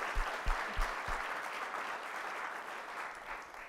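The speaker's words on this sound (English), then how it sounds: "One more round of applause for Melanie" An audience at a College of Engineering lecture on the future of artificial intelligence applauds the speaker. A few sharp claps at the start blend into a dense, steady round of clapping that carries on without voices.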